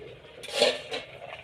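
A lid goes onto a cooking pot of young jackfruit and potatoes with a quick metallic clink and a brief rattle as it settles, close and fairly quiet, with no talking.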